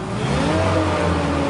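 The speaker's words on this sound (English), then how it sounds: "Now we want to go through the motions, make sure our engine revs." A Genie boom lift's engine runs at a steady, loud, close drone with a constant throbbing hum throughout, revved during an inspection and without any voices.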